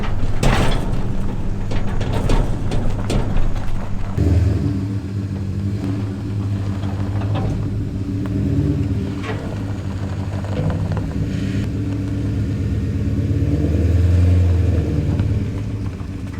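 Pickup truck engine idling and rumbling while the truck backs a wagon into place, with a steady low drone and a swell in engine noise near the end. The sound is loud and close, with no talking.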